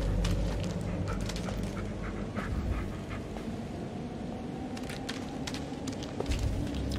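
A dog in the video game Blair Witch whimpers and pants faintly in a forest, with soft intermittent whines over a steady low ambient hiss and no talking.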